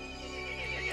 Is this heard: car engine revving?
no